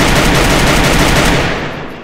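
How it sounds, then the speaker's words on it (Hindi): Rapid automatic gunfire in the Garena Free Fire battle royale game during a tournament match, with a dense, loud burst that fades out toward the end. "जीजे भाई को एक हेडशॉट पड़ी"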